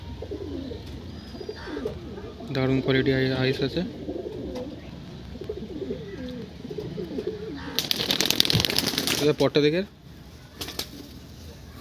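Breeding pigeons in an Andhra pigeon loft coo in rolling bursts close by, with a flurry of wing flaps late on, while someone talks over them.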